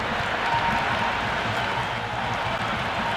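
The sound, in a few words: crowd applause in cricket video game Cricket 26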